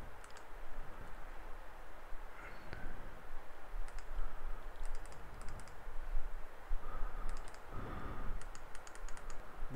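Clicking on a computer running BunsenLabs Linux Hydrogen, with scattered sharp clicks in small bursts over a steady background hum, fairly close and moderately loud, no talking.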